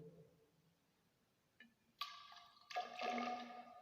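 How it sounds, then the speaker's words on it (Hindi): Water is filled into a measuring cylinder up to the 50 ml mark in a lab test for silt in sand, short close bursts of pouring and gurgling after near silence, quiet overall with no talking. "सबसे पहले स्टूडेंट हमें 50 ml तक पानी को फिल कर लेना है। मैं यहाँ से फिल करता हूँ"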